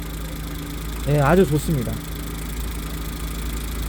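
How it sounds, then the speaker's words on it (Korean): A car engine idles quietly and smoothly after repair, a low steady hum underneath as a voice speaks briefly over it. "엔진도 지금 보시면 굉장히 정숙해졌어요"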